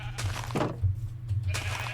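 Minecraft sheep bleating inside a barn holding seventeen sheep, two short bleats spaced apart with a low steady hum beneath, fairly close and alone without talk.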